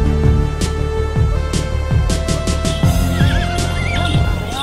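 Horse whinnies repeatedly amid the din of a busy outdoor livestock market in Vietnam, with other animal calls and crowd noise continuing throughout.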